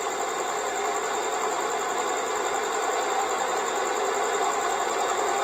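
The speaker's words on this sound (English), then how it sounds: "Release and liftoff" An Atlas V rocket lifts off carrying the Perseverance rover, a dense, steady roar of broadband rumble that stays even and continuous, heard from a distance with no voices.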